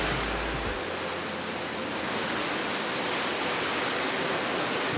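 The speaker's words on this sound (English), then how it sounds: "Scary waves." Rough ocean waves off a tropical island give a loud, continuous broadband roar of surf that holds steady without pause.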